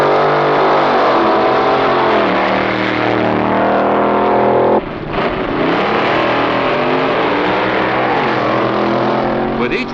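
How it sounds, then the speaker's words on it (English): A Chevy-powered B-Comp drag racing car accelerates at the 1963 NHRA Winternationals, a loud sustained engine roar with rising and falling pitch, briefly cut off near the middle, with a commentator's voice over it. "Jess Van Deventer moves out to an easy win in his first round of eliminations with his Chevy-powered B-Comp car."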